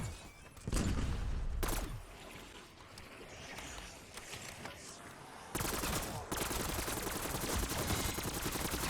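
Rapid gunfire from an overpowered, buffed weapon in Black Ops 6 Zombies, loud automatic bursts with sharp onsets near one second and again from about five and a half seconds, dense and sustained through the end.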